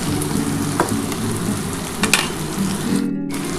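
Fish oil bladders fry crisp in hot oil, a steady close sizzle punctuated by occasional sharp pops and crackles, with stirring and no voices.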